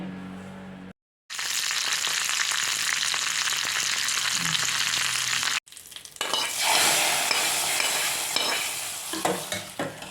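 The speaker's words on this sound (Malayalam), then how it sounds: "ഇനി ഇതിലേക്ക് കടുവ് കരിയാമ്പില" Mustard seeds and curry leaves hit hot oil for a Kerala sambar tempering, giving a loud, dense sizzle that breaks off briefly twice and then crackles on with scattered pops.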